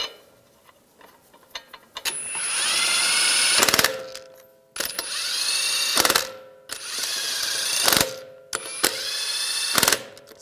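A power tool spins lug nuts onto a Ram 1500 wheel in four separate bursts, each a rising whir that ends in a sharp rattling impact before a short pause.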